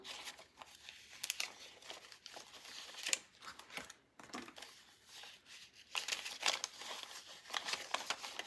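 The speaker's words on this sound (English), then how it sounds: "Let me grab my little envelope here" A paper cash envelope being handled close up for savings challenges, with intermittent crinkling, rustling and soft crumpling bursts separated by short quiet gaps, no talking.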